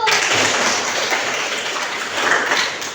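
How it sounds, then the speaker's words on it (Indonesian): Classroom of students applauds a classmate, a dense, even wash of clapping that holds steady for a few seconds with no talk over it. "Tepuk tangan buat Aru."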